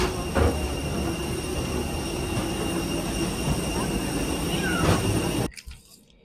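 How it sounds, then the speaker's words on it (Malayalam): From inside a passenger airplane taxiing toward take-off, a continuous loud engine and rolling rumble with a few bumps, cutting off abruptly near the end. "നമ്മുടെ ഫ്ലൈറ്റ് ടൈക്ക് ഓഫ് ചെയ്യാൻ വേണ്ടി പോവാണ് ട്രാക്കിൽ കൂടെ പോയിക്കൊണ്ടിരിക്കുകയാണ്"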